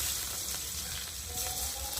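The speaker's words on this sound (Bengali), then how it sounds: "জিরেটা ভাজা ভাজা হয়ে এসছে, এবার দিয়ে দেবো কুচনো পেঁয়াজ" Chopped onion hitting hot oil with cumin seeds for a rohu fish curry, a continuous close sizzle with faint crackles and a light scrape.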